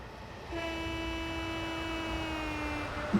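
Train horn sounding from a train on the Chiltern Mainline in Train Simulator 2017, one long sustained toot that starts after a moment of rumble and holds steady to the end over a low rolling hum.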